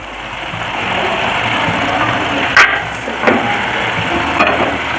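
Washed rice grains hiss and sizzle in a hot pan as they are stirred, with a few sharp scraping clicks of a utensil against the metal.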